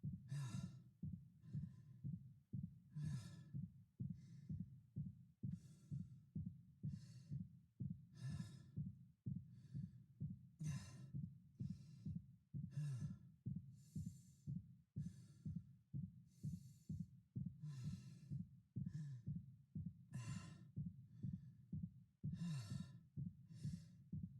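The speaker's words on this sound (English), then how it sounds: "you'll start to hear fatigued breaths, exerted breaths start to mix in with his regular base breathing rate." Isaac Clarke's fatigued, exerted breathing in the Dead Space Remake runs as a long, steady cycle of heavy in-and-out breaths, close and rhythmic, with no speech over it.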